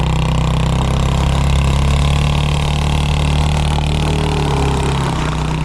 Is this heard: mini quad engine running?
yes